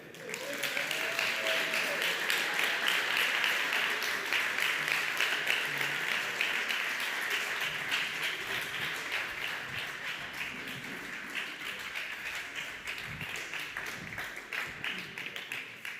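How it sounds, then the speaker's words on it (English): Sustained applause from an audience at a startup demo day, greeting the winning team called on stage; dense clapping runs steadily throughout, with a voice faintly speaking over it at times. "And again, a big applause for Codify"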